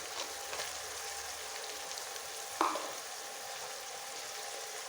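Dried fish frying in oil gives a soft, steady sizzle at low volume, broken once midway by a short sharp clink of a utensil.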